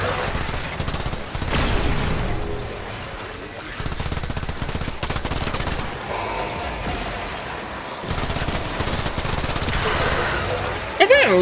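Rapid automatic gunfire from the video game Warframe, a Steel Path solo mission, rattling in dense continuous bursts with game effects layered around it and a sharp burst near the end.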